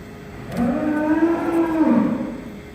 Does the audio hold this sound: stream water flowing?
no